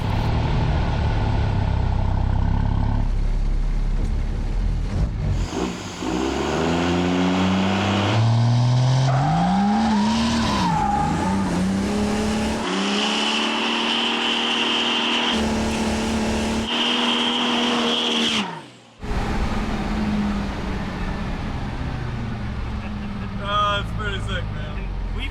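A 1975 Chevrolet C10 truck swapped with a 6.7 Cummins diesel does a burnout: the engine revs up and down with rising, falling pitch over loud tire roar and screech, ending in a sudden cutoff.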